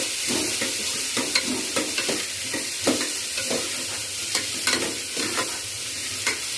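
Two medium onions, roughly chopped, fry lightly in a pan with a steady soft sizzle, broken by a regular series of scraping stirs close up, with no one talking.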